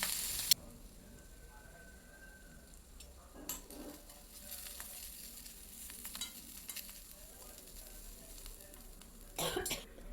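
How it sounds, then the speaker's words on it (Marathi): Turmeric powder sautéing in a spice masala for dahi tadka, heard as a steady low sizzle with soft stirring scrapes and a few sharper clatters, close and moderately quiet throughout, with no speech. "हळद पण छान परतून झाली"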